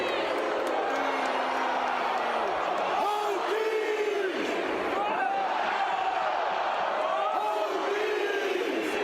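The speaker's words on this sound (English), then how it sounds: "Crowd goes bonkers nuts every time" A large arena crowd roars and cheers over a song played through the venue, dense and sustained with swelling shouts and whoops throughout.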